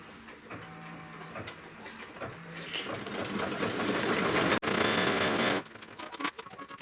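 A Kimberbell embroidery machine stitches a placement line for an appliqué hoop sampler, its needle running in a steady, fast mechanical whir that grows louder midway, breaks for an instant, then cuts off near the end.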